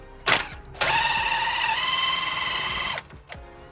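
An impact wrench spins a nut on a 1970 Chevrolet Impala lowrider. It gives a short rattle, then a sustained high whirring buzz of about two seconds, a slight pitch shift midway and an abrupt stop, with faint clanks around it.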